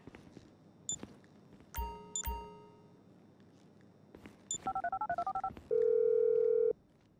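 Telephone dialing in Grand Theft Auto 5, with a few scattered beeps and chimes, then a quick run of DTMF keypad tones and a steady dial-type tone near the end, moderately loud with no speech.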